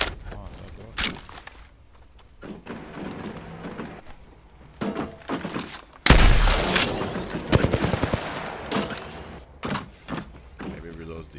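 Gunfire from a weapon in the video game Apex Legends: sharp single shots and short bursts of game firing, loudest in a dense run midway, with a voice talking over it.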